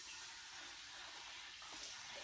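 Three cups of water pour steadily into an Instant Pot holding a cup of steel cut oats, a continuous bright splashing rush lasting the whole moment, close and alone.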